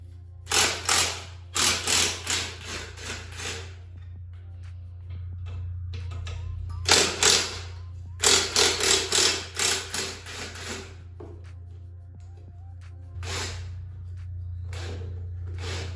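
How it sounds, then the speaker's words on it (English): Allen bolts being worked loose from the top and bottom mounts of a rear shock on a small electric dirt bike, heard as bursts of quick ratcheting clicks separated by quiet pauses over a low steady hum. "First thing we're gonna be removing is this rear shock. It's just a Allen bolt top and bottom, pretty straightforward."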